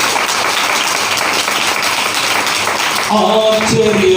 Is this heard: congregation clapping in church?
yes